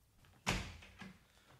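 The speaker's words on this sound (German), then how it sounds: "Fast vorsichtig öffnete Meister Eder die Tür." The wooden door of a woodturner's workshop is opened carefully, giving one fairly close knock or thump of the door followed by a softer click, all quiet against low room tone.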